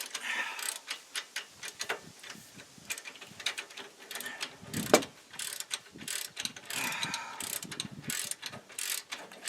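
Ratchet wrench with an offset handle clicking as it turns a bolt during rear brake work on a 2005 GMC Envoy / Chevrolet Trailblazer, irregular bursts of close metallic ratcheting with pauses and knocks between.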